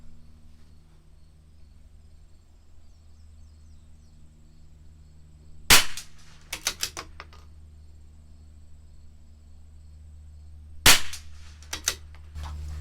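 Two sharp rifle shots from a CZ 457 LRP firing SK Biathlon Sport ammunition, several seconds apart, each followed by brief echoing clatter, over quiet outdoor background hum.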